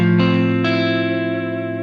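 Tyler electric guitar on the front pickup with steel strings, played through the first gain stage of a pedalboard into the amp: two loud sustained chords ringing out with a long fading decay, no talking.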